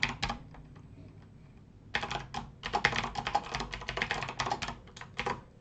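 Code being typed on a computer keyboard: bursts of quick, close key clicks, a short pause after an opening flurry, then dense continuous typing to the end.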